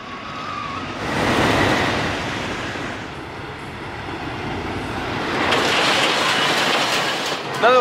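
Ravine Flyer II roller coaster train running along its track at Waldameer, a steady rumbling roar with clattering that swells twice as the cars pass, loud and continuous with no talking.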